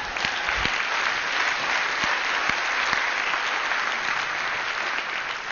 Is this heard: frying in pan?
no